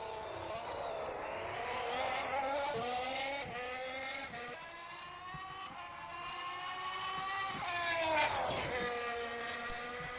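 Alpine Formula 1 car driven by Pierre Gasly during Spanish Grand Prix qualifying, its engine screaming through rising and falling gear changes as it laps the track, fairly distant and sustained.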